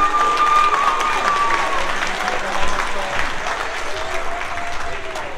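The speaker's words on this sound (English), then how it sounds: "Please give them a round of applause." An audience at an awards ceremony claps steadily and loudly for the whole stretch, a dense wash of applause from a crowd nearby.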